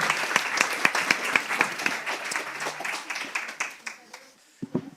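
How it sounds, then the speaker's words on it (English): An audience at the Wainwright Prize 2024 ceremony claps in a burst of applause, dense and lively at first, then thinning into scattered claps before fading out. "please give a big round of applause for Sophie Yo, Helen Chersky, Chantal Lyons,"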